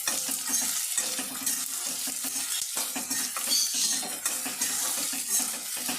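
Thickly cut onions frying in a pan and stirred, a constant bright sizzle layered with rhythmic scraping and clinks of a spatula against the pan, near and steady, with no talking.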